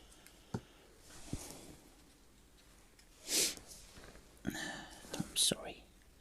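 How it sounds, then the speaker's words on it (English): A person sniffs several times up close in a quiet room, short nasal bursts scattered among soft whispered talk and faint crafting rustles. "Sniffing away, aren't I?"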